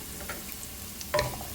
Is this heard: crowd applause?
no